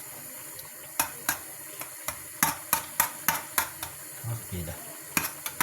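Garlic yogurt sauce with salt being stirred by hand in a bowl, a string of sharp utensil clicks and scrapes against the dish with short pauses, close up, with a few brief spoken words.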